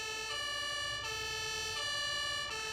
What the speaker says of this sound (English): Let's see if we can turn on at least one siren.